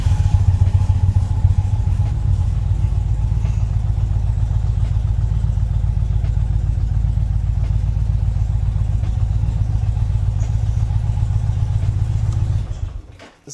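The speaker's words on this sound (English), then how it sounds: "I'm gonna take it around the block because I gotta check the suspension anyway." An Indian Challenger motorcycle rides around the block, its loud, steady low engine rumble holding close and constant throughout before cutting off abruptly at the end.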